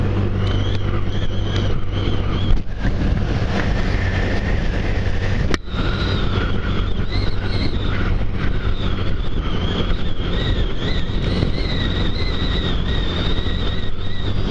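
A motorcycle rides through traffic in Austria, about to pass beneath the Südosttangente highway, with a loud, steady roar of wind and engine that continues unbroken and close throughout.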